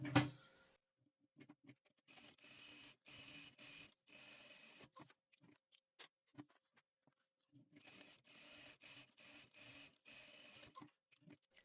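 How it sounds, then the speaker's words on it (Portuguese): A sewing machine running a straight seam through fabric on a Christmas basket project, its quiet, rapid mechanical stitching coming in several bursts separated by short pauses, with no talk. "Agora, pelo lado da manta, eu vou passar uma costura reta desse lado e desse lado."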